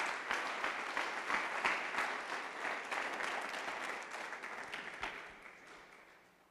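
Congregation applause at a church service, a dense wash of many hands clapping that holds steady, then thins and fades out toward the end.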